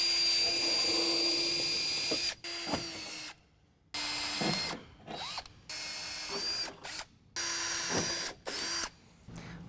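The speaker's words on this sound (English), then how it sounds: "we're going to use a 3/32 drill bit, and we're going to drill a pilot hole." A power drill with a 3/32 drill bit bores pilot holes for mounting a fender flare, in several short loud bursts separated by brief pauses.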